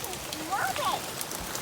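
Steady rain pours down outdoors, a dense continuous hiss filling the whole moment at close range, with a voice audible over it.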